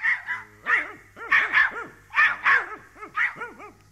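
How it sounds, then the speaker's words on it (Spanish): Dogs bark in a Spanish-language children's audio story, a rapid, close run of about a dozen sharp, yappy barks in uneven bursts over a faint steady low hum. "Los perros, por decir algo también, ladraron con un guaguá bastante necio."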